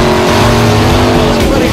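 Monster truck engine at a show roaring at full throttle, a loud, steady, rumbling rev that fills the whole short moment with no break.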